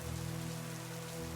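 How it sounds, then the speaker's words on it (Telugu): Rain falls in a children's story about a lazy deer, a soft, steady patter on surfaces with a low hum beneath, brief and without any voices. "చల్లటి వర్షం నీళ్లు ఇంకా చల్లని గాలి తనని అనారోగ్యానికి గురిచేస్తున్నాయి"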